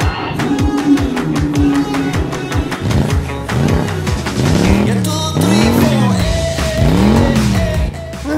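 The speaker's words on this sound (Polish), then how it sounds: "Pojedziemy sportowym autem." Cartoon sports car engine revs hard and roars away, loud and close, with rising and falling whines and tire squeals over music, in an animated T-Racers episode.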